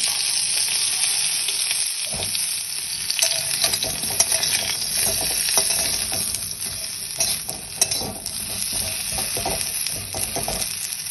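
Cauliflower pieces fry in very hot ghee with five-spice tempering, giving a loud, continuous close sizzle broken by the scrape and clatter of stirring throughout, with no voices.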